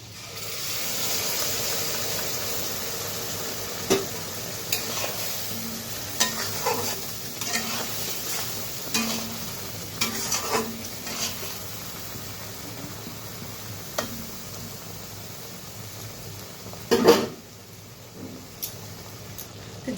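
Coconut and poppy seed paste being stirred in a pan for olive (jalpai) chutney, giving a steady low sizzle with irregular scraping strokes of a spoon, near and fairly quiet, no talking.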